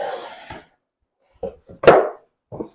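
A knife cuts a chunk off a piece of wood during a work and torture test. There are a few short, dry scraping and cracking strokes up close, split by pauses, with no talking.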